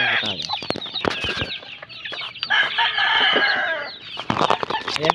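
Pet chicks peep and cheep busily while being fed chick feed, a dense chorus of overlapping high chirps close by, with some louder clucking mixed in and sharp pecking taps.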